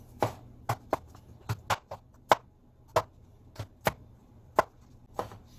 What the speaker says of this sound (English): I meant you need to mince these to small pieces.